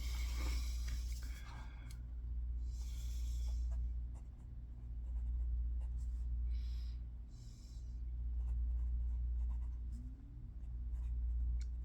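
A fine-nib Platinum 700R fountain pen inked with Noodler's Air-Corp Blue Black scratches steadily across paper in soft, close strokes over a low room hum, with brief pauses between words.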